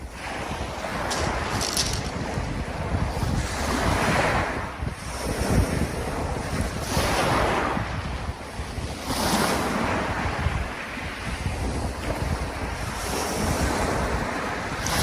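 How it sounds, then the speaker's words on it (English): Calm sea at Weybourne Beach, soft waves washing onto the shore in slow repeating surges, with wind buffeting the microphone throughout and no voices. "the sea is pretty much flat calm, couldn't really be any calmer"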